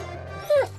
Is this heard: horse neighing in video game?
no